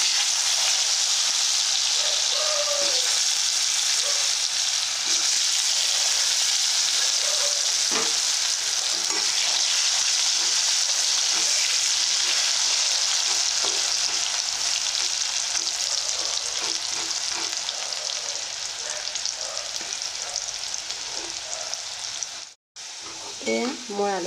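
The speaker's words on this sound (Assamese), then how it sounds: "এয়া মোৰ আলুবোৰ ফ্ৰাই হৈ গৈছে।" Potato pieces seasoned with salt and turmeric fry in hot oil, giving a steady, dense sizzle with scattered pops and stirring clatter that runs unbroken and loud for the whole stretch, with one brief cutout near the end.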